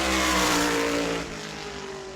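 A Tour Modified race car at New Smyrna Speedway slides off turn four toward the checkered flag during qualifying, its engine a loud, close roar that drops and fades as the car pulls away.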